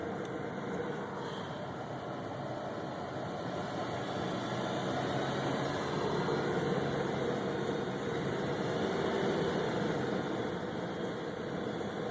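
Car engine with a bad pulley idling at about 800 RPM, a steady low hum with faint whine, continuous and unchanging for the whole stretch, no talking.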